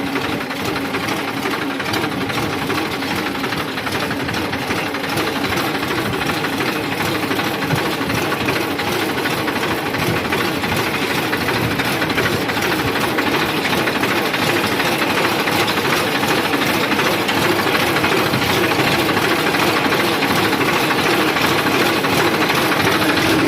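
A tractor pulling a kulfa dora weeder through a soybean field runs steadily, a loud continuous engine rumble and mechanical clatter that holds unchanged throughout with no talk.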